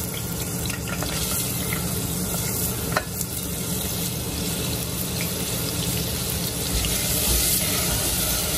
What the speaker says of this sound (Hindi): अनियन को हमको थोड़ा सा सॉटे करना है